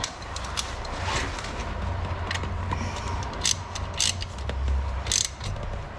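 Ratchet wrench tightening 14mm bolts on the front brakes of a 2016 Jeep Renegade, heard as a run of soft clicking, grinding mechanical ticks against a low steady hum, with no talk.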